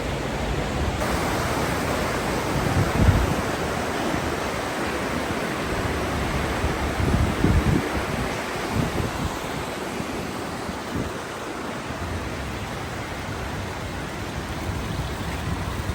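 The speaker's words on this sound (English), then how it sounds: "Hot water just running 24/7." Hot water pouring nonstop on a rooftop in Andorra la Vella, a steady broadband rush with a constant level that carries on without pause throughout.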